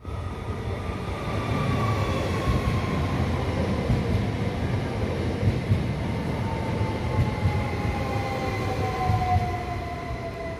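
A train rolls steadily through Firenze Campo di Marte station, a continuous loud rumble of wheels on rails with drawn-out tonal squeals rising over it for the full stretch, no voices.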